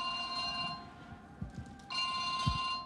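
A telephone rings with a steady electronic trill, breaks off briefly, then rings again, with soft background rumble and no talking.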